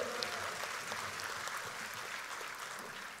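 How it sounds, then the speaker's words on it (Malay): Steady, dense applause from a political party assembly crowd honouring Melaka, filling the hall evenly and fairly distant, no voices standing out. "Tepukan untuk Melaka."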